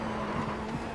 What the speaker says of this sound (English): it's very easy to lock the wheels up under braking